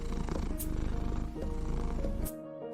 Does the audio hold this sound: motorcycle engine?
no